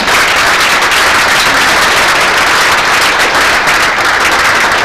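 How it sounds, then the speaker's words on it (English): Loud, dense audience applause for an award winner at the 1997 NATS awards, a continuous wash of clapping that stays even from start to end. "Big applause."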